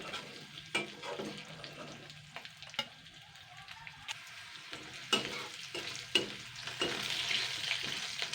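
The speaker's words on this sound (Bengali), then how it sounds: "জাস্ট দুই থেকে তিন মিনিট ক্যাপসিকাম আর পেঁয়াজটা ফ্রাই করে নেব" Capsicum and onion frying in a pan for an egg chilli dish, a quiet continuous sizzle with intermittent clinks and scrapes of a stirring spoon, growing slightly louder toward the end, with no one talking.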